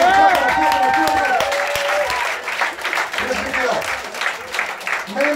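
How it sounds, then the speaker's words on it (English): Crowd at a comedy roast battle main event clapping, a lively patter of many hands mixed with cheering and shouted voices, loud at first and then continuing more raggedly under talk. "Come on, clap it up, clap it up"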